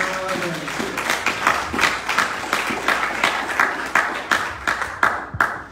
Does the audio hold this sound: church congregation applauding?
yes